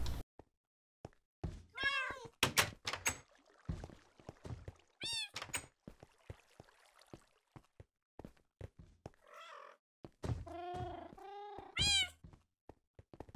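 Minecraft cats in a breeding pen give several distinct meows, some overlapping, between hollow thunks and clicks of the game, fairly close with quiet gaps in between.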